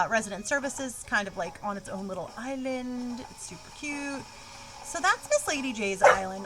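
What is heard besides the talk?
dog barking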